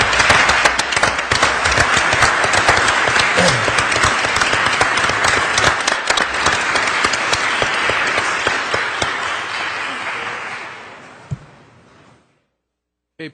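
Sustained, loud applause from a council meeting audience honoring a scholarship recipient fills the room for about ten seconds before tapering off into silence.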